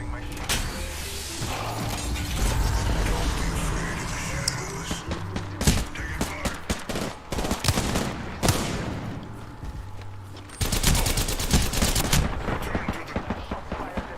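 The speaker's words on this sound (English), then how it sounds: "Shots fired at me." Gunfire in the battle royale video game Apex Legends: bursts of rapid automatic shots and single cracks recur throughout, loud and close, mixed with game ambience and brief in-game voice lines.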